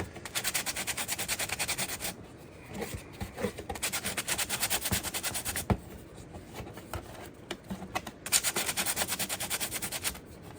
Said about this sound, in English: We're going to sand these smooth, clean up all this debris